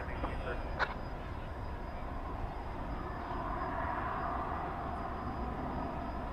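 American airliner taking off at night from runway 18 left at Dallas Fort Worth airport, a steady, heavy broadband engine roar that fills the whole stretch with little change in level.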